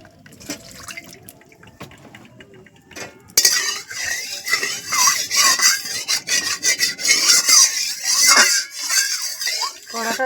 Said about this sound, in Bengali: কড়াটা ধুয়ে নিচ্ছি।